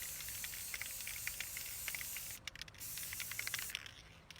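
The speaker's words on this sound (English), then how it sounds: "So I just take and spray the whole thing." Steady hissing of an aerosol spray can of clear coat in close bursts, with a brief pause midway before spraying resumes.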